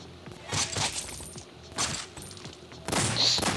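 Shotgun blasts in the Hunter Assassin mobile game, several short sharp bursts spaced about a second apart with a brighter final blast, fairly faint and heard alone.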